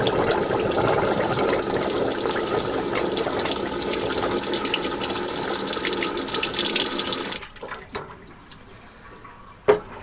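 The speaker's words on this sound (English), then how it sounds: "So, everything's drained away very nicely." Water drains from campervan sinks through HepvO waste valves in an Iveco Daily DIY van, a steady close rushing flow that cuts off abruptly near the end, leaving faint drips and one short gurgle.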